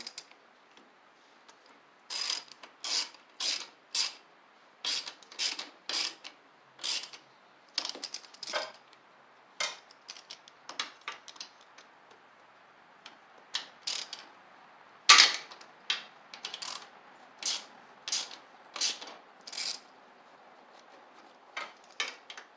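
A ratchet tightens a bolt on a Poulan Pro (Craftsman) riding mower with a Briggs V-twin engine, giving bursts of quick, crisp clicking, close and fairly quiet, with short pauses between strokes.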